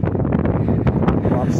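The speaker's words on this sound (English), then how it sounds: "It is a bit windy out here today." Gusty wind buffets the microphone in rough, uneven bursts outdoors on Dunstable Road in Luton, UK.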